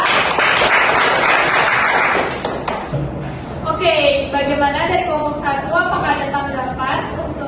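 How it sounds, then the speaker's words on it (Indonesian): Students in a classroom applaud during a practice teaching session on informatics, a burst of clapping for about three seconds that gives way to a person speaking. "Tepuk tangan untuk kita."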